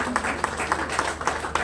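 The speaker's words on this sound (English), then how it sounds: "One more time, a round of applause, please." Audience applause at a football club jersey launch event: a broad wash of clapping with a faint rhythmic pulse, moderately quiet, with some voices mixed in.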